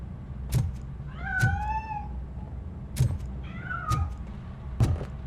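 Cat meowing inside the video game RoboCop: Rogue City, with two clear drawn-out meows sounding close and distinct amid a few sharp clicks and thumps from the game, and no talking.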